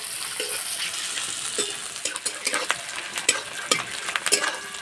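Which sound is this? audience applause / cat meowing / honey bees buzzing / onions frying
onions frying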